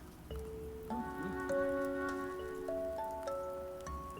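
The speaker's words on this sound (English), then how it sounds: "A little bit of rain." Soft, steady rain patters in the background of the video game Dreams while bright synthesized chime tones ring out in sustained notes over it.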